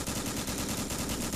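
Rapid, continuous gunfire from a video game rattles steadily and densely, with no speech over it.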